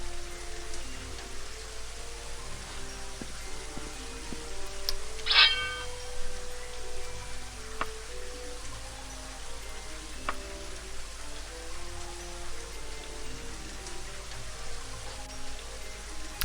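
Steady rain falls in the video game Daggerfall Unity, a constant even patter close by, with one brief brighter clink partway through and no talking.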